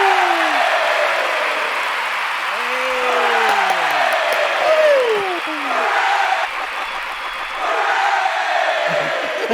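Studio crowd cheers and applauds loudly and steadily throughout, with whoops and rising and falling cries over the clapping, and a brief dip in the noise near the end.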